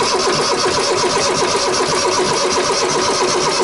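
A boat engine cranks over on dry land with a rapid, rhythmic chugging, loud and close throughout, with no voices over it.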